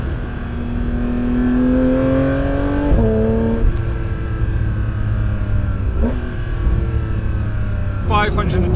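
A Porsche 992 GT3 RS engine drones steadily while driving, its pitch rising through the gears with brief shifts, loud and close from inside the cabin.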